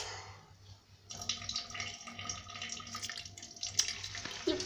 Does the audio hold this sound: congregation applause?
no